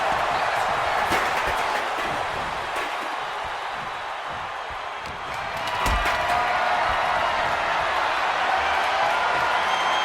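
A crowd roars and cheers in a WWE 2K26 Hell in a Cell match between Brock Lesnar and Oba Femi. The dense, steady arena noise runs throughout, with a few sharp impacts and commentary voices under it.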